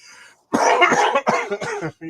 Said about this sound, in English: And now I got a cough because I got bronchitis.